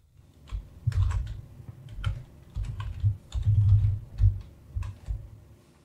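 Someone types coordinates into a Desmos graphing window on a computer keyboard, a steady patter of close, clicking keystrokes in irregular bursts with no talking.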